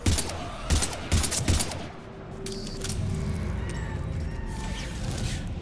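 Rapid automatic gunfire bursts in Mass Effect 3, loud and close at first, then giving way to a steady rumbling battle din with faint distant shots.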